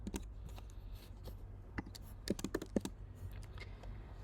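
Quiet taps on a computer keyboard, a sparse run of separate clicks with a small cluster of sharper key presses near the middle, alone with no talking.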